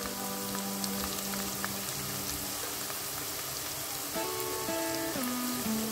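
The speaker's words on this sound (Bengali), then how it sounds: "এগুলোকে আমরা একদম গোল্ডেন ফ্রাই" Corn kernels coated in cornflour fry in hot oil for a crispy salt-and-pepper corn snack, giving a steady dense sizzle and crackle throughout, with a faint tonal hum underneath.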